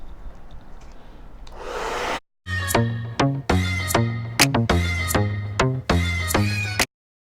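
A hair dryer set to cool blows on a synthetic wig, starting as a soft airy rush, then running in several loud, tonal, whining bursts separated by brief cutoffs.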